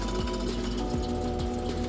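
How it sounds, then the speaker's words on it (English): A laboratory vacuum pump running, a loud continuous mechanical hum with a fast regular chugging pulse, steady and close with no talk. "it's time to turn on the vacuum pump."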